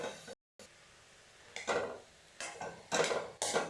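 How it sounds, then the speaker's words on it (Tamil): A spoon stirs turmeric into tapioca and bottle gourd in a pan, making soft scraping strokes in short separate bursts, faint and close, with no one talking. "சேர்த்துட்டு நல்லா ஒன்றா கலந்து விட்டுறலாம்."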